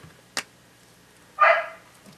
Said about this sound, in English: My dogs are barking downstairs.